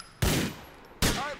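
Two loud, booming shotgun blasts in Grand Theft Auto 4, spaced about a second apart, each with a sharp attack and a short decaying tail.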